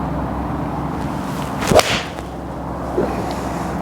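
A golf iron, a Haywood Golf Signature or TaylorMade P790, strikes a ball with one sharp, crisp contact followed by a brief whoosh, then a fainter tick a moment later, otherwise quiet.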